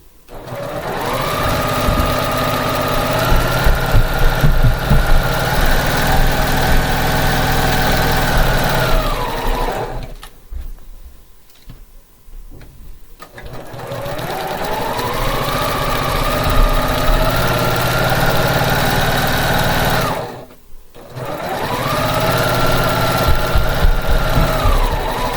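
A sewing machine stitches pieces of fabric in two long, loud, steady runs of about ten seconds each, separated by a short quiet pause, then starts a third run.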